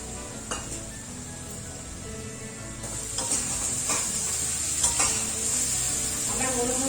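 Spice paste being stirred and fried in a pan while masoor dal with fish head is cooked. It makes steady sizzling with scraping stir strokes, close and fairly loud, and no one speaks.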